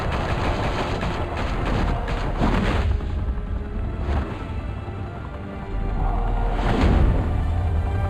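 Gunfire erupts in a Batman video game as armed men open fire in Gotham, a sustained barrage of heavy shots and booms with loud bursts and lulls, no talk over it.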